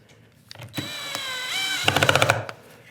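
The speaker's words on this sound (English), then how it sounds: "drive that screw" A driver sinks a screw into a wooden card scraper holder in a woodworking shop, with a rising motor whine that holds steady and then breaks into a quick series of stuttering pulses before stopping.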